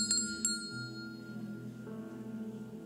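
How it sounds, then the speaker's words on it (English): A bell rung during a youth church sermon gives a few quick bright strikes at the start, then a lingering ring that fades over a low steady background. "So if you could ring that bell"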